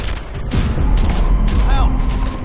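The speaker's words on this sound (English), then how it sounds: "Shut up and shoot, Angie!" Gunfire in the Terminator Salvation video game: continuous rattling fire and clattering impacts over a rumbling battle din, loud and close, with shouted voices mixed in.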